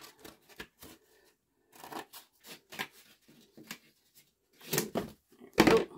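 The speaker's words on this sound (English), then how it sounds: "So I'm going to cut all of those now." Flat pieces for a Barbie-sized dollhouse room box diorama being cut, heard as short, irregular snips and rustles of sheet material close by, with quiet handling noises and a couple of louder clacks near the end.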